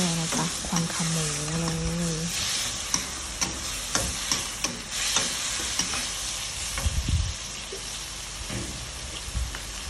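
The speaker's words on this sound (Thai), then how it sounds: "จากนั้นเติมน้ำเติมน้ำเปล่าละจ้า แล้วก็ผัดผัดผัดไป ผัดไปเลย" Crispy pork with cumin leaves stir-fried in a pan after water is added, giving a loud, steady sizzle with repeated scraping and stirring clatter close up, and a brief voice at the start.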